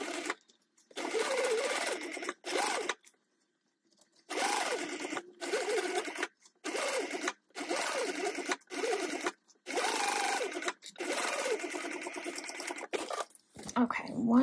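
A sewing machine stitches a tote bag seam in a series of close, steady whirring bursts, each a second or two long, separated by short silent pauses.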